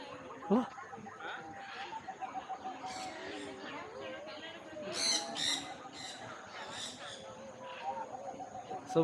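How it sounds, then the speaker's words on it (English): Birds call overhead at Jurong Bird Park, a mix of faint squawks and clucking chatter scattered throughout at low level, with people talking quietly nearby. "So many birds above us."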